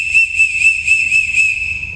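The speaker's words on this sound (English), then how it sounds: "if I blow my whistle 5 times or more and it will sound like this" Emergency whistle on a school archery range, blown in a rapid series of shrill, piercing blasts, about five or more close together, loud and near with no talking.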